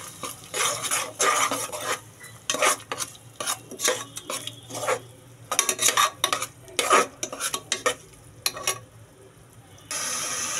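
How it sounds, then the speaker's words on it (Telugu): Ginger garlic paste is stirred into softened tomatoes for a Muslim-style drumstick mutton curry. A spoon scrapes and clinks repeatedly against the pan in irregular bursts over a steady low sizzle, close and fairly loud, with no voices. "వేసుకున్న తర్వాత బాగా కలుపుకోవాలి"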